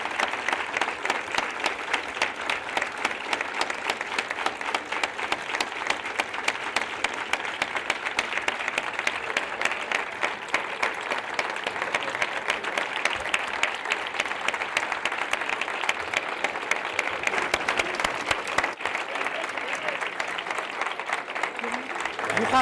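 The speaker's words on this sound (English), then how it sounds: "Another opportunity to clap" An audience applauds at the close of a speech in a discussion with former Uruguayan president Pepe Mujica, a loud, dense and sustained wash of many hands clapping together that barely wavers throughout.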